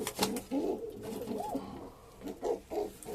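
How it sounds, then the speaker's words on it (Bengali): Pigeons coo close by in soft, rounded, repeated calls, a few overlapping bursts spread across a few seconds with faint background noise. "এবার মাদি পায়রা আপনাদেরকে দেখাচ্ছি বন্ধু"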